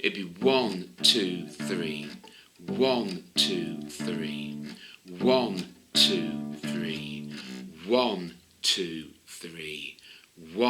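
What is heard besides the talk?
None of the usual background noises is heard.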